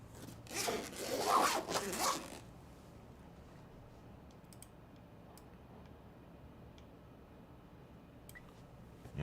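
A zipper on a green keyboard's carrying case is drawn open in one long rasping pull, then quiet with a few faint ticks and taps.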